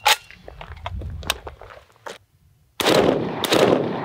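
An unsuppressed AK-pattern rifle firing 300 Blackout rounds outdoors: a loud, sharp report at the start, a few softer scattered knocks and rustles, then a second and third booming shot close together near the end.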